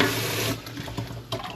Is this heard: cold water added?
yes